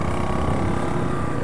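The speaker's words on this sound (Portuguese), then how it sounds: "moto barulhenta da porra essa do Lucas" Lucas's loud motorcycle runs as a steady, close engine drone with a continuous low rumble that holds at an even level throughout, with no talk over it.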